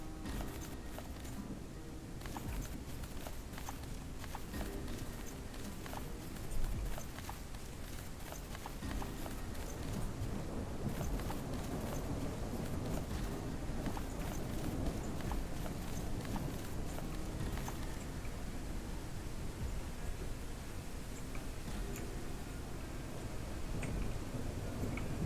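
A horse clip-clops along at a walk in Cowboy Life Simulator, steady hoof beats running through the whole stretch over a dense bed of game music and ambience, no talk.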